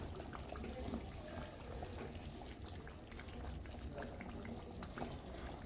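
Turkey stew simmering in a pot: a soft, steady bubbling and gentle liquid burble, faint and continuous, with no talking.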